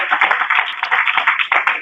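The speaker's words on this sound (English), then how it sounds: "Give him another round of applause" Audience applause at an open mic event for a justice project, a dense burst of clapping hands that continues steadily with no speech.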